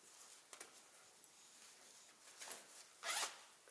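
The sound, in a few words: zipper on vest pocket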